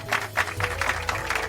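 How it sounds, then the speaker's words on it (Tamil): An audience at a music concert welcomes a singer with a short burst of clapping, rhythmic waves of applause over a low steady hum. "அவர்களை வரவேற்று அனைவரும் கரகோஷம் எழுப்புமாறு கேட்டுக்கொள்கிறேன்."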